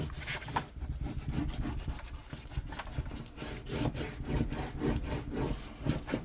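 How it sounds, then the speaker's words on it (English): A paper piece is burnished down onto a wedding album spine with a tool, making close, continuous rhythmic rubbing and scraping strokes, fairly loud, with no talk. "And you want to burnish this piece down really, really well."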